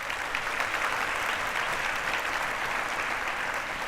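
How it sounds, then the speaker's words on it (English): An audience applauds students at an innovation event's opening remarks, many hands clapping in a steady, even roar that holds at one level throughout, with no speech over it. "Let's give a round of applause to those students."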